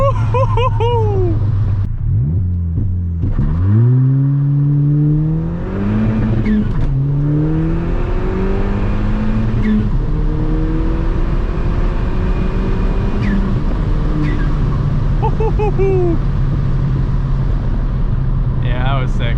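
Ford Fiesta ST on an E30 tune accelerating hard, its engine note sweeping up through repeated rising pulls with gear-change dips, loud and close from inside the cabin while a voice whoops and talks over it.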